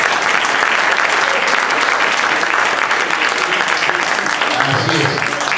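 Audience applause fills a live folk music show at the Patagonazo 2017 festival, a dense, steady wash of clapping held loud from start to finish, with a brief low murmur near the end.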